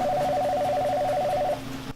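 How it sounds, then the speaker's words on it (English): A telephone rings at a busy Main Street pizza shop. The electronic warbling ring sounds for about a second and a half, then cuts off, leaving a low background hum. "The phone never stops ringing at Meeker's Main Street Pizza."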